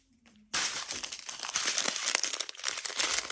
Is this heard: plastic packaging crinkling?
yes